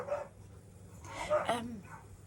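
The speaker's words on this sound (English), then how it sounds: "My dogs." Several dogs bark and yip in short bursts indoors, with a few sharp barks clustered together and a voice talking alongside them.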